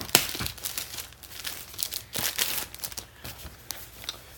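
Cardboard envelope packaging for an Amazon Fire HD 8 tablet being torn and crinkled open, a run of close crackling rips and crunches in uneven bursts, with no voices.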